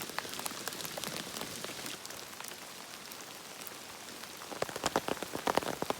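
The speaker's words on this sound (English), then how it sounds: "I think that there's a little bit more consistency to these raindrops than just liquid water. I'm thinking that it's gonna try to hail on me here." Steady rain, with hail threatening, patters on rain gear outdoors in Washington, a dense close spatter that turns sharper and heavier with harder individual hits toward the end.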